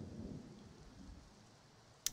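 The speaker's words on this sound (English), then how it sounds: "Oh, it's a storm." A thunderstorm with rain in The Sims video game plays as a faint, steady rain wash with low rumbling, and a short crackling burst near the end.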